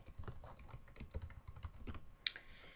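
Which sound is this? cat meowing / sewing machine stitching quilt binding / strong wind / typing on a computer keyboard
typing on a computer keyboard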